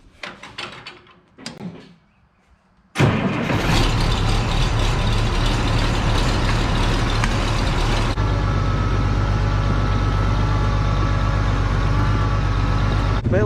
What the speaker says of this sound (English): Baler hooked up, tractor going.